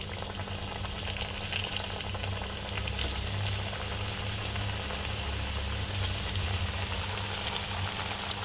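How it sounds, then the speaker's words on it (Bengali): Kalija pitha fry in a pan of hot oil with a continuous bubbling sizzle at close range and a few sharp pops and crackles, without talking. "পিঠা ভাজা হয়ে গেছে, আমি এখন এই পিঠাগুলো ভেজে নেব।"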